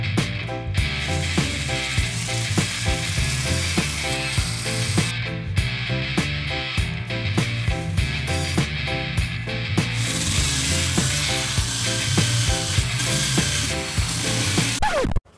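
Hand sanding of filler on a jet ski hull with 150 grit sandpaper, a steady rhythmic rasping scrape repeating in quick back-and-forth strokes, close and continuous.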